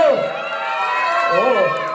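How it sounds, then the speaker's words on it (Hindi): A crowd of children at a first birthday party shouts and whoops loudly together, rising and falling voices forming a continuous noisy cheer. "तो शोर और तालियां कैसे होती है करके दिखा दो लाउडली एक बार एवरीवन"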